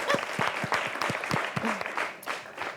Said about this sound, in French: qu'on applaudisse l'académie.